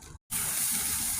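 After a brief silence, water hits a hot pan holding steak and bursts into a loud, bright, continuous hiss and sizzle.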